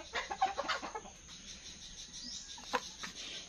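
Kabir-breed chickens from a free-range flock of several hens and a couple of roosters cluck in a quick burst of close calls, then fade to quieter scattered clucks over faint insect-like background noise.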